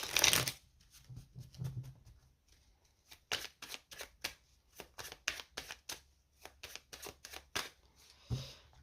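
Tarot cards, a classic Tarot de Marseille deck and a night-themed deck, being shuffled by hand: a crisp riffle at the start, then a quick run of rapid, close, sharp card slaps and flicks in a quiet room.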